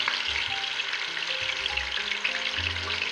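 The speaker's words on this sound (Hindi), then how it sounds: "आलूओं को मैं तकरीबन 2-3 मिनट फ्राई करूँगी।" Half a kilo of large-cut potato pieces fry in hot ghee for Irani biryani, a dense, even sizzle close up with a few soft bubbling pops underneath and no voices.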